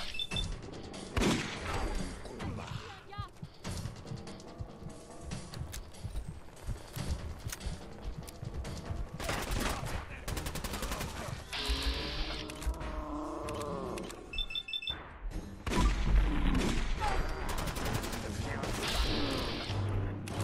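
Gunfire in the video game Fallout 4, with rapid bursts of sharp shots and clattering impacts spread across a busy game soundscape, fairly faint overall, with louder thumps toward the end.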